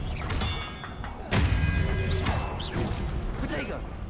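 An Expelliarmus spell is cast in the video game Hogwarts Legacy, producing a sharp whooshing thud with mechanical clatter and swirling magical effects amid layered game sound.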